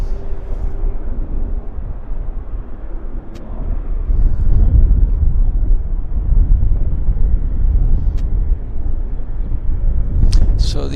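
A large airliner rolls through a long landing at Vancouver Airport, with a steady low roar of engine and rumble that swells midway, plus a few faint clicks and a voice in the background.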